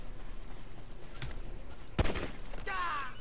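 Gunshots in GTA 5: a few scattered sharp cracks, one strong report near the middle, then a brief whistling tail, set against steady game background noise.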